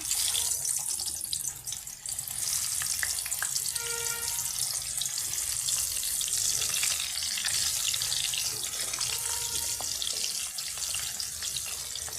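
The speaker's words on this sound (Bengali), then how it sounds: "আমি প্রথমে কাঁচকলাগুলো ভেজে নেবো" Green bananas frying in hot oil in a covered wok over a low flame, a steady, dense hiss with faint crackles that holds evenly throughout, close and alone.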